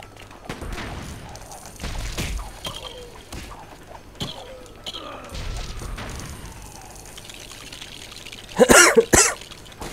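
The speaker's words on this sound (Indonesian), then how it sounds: "Sorry guys, gue lagi batuk-batuk" A gamer playing Lego Batman: Villain Mode coughs several times, scattered harsh coughs close to the microphone over quiet game sounds, ending in a louder burst of coughing.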